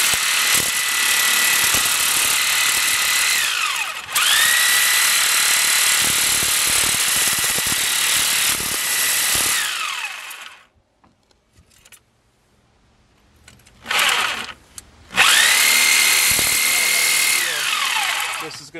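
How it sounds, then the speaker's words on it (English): A power tool grinds through a hardened steel clevis bolt on a 2005-2010 Jeep Grand Cherokee WK front control arm, a loud harsh whine in long bursts broken by a brief lull and a short restart. "we got to cut off this clevis bolt on either side of the inside of the clevis so we can pull it out."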